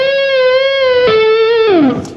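A distorted electric guitar plays the opening phrase of a solo, a sustained bent note stepping down and then sliding lower, loud and alone for about two seconds.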